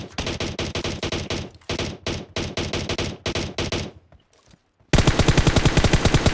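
Rapid bursts of automatic gunfire in PUBG Mobile in several long volleys, a brief near-silent gap, then a sustained dense stretch of shooting; loud and close, no talking.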